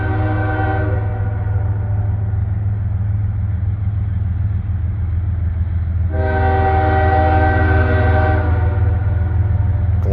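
A loud Norfolk Southern 12G freight train rumbles steadily nearby at night on the Conemaugh Line in Creighton, Pennsylvania, as its horn blares twice, once briefly at the start and again in a longer blast midway.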